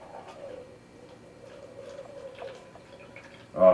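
Walnut-juice wood stain is poured gently through a small strainer into a paper cup, giving a faint, quiet trickle with soft drips and a louder splash or clink near the end.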